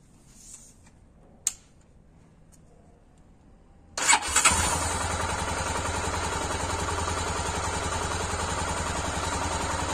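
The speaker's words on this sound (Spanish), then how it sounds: "vamos a poner esta moto en marcha" A Honda Tornado XR 250 motorcycle with a clutch pushrod issue starts up after a few seconds of near silence and faint clicks, a sharp burst of cranking and firing that settles into a steady, loud idle.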